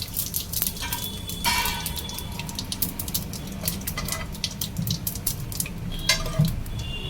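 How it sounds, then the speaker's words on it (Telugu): Whole garam masala spices — shahi jeera, cardamom, cloves and cinnamon — frying in hot oil for a mutton liver curry: a steady low sizzle with occasional spoon clinks and scrapes against the pan. "ఆయిల్ అయితే హీట్ అయిపోయింది హోల్ గరం మసాలా బగారాకు సాజీరా ఇలాచి లవంగ పట్ట మూడు వేసుకోవాలి"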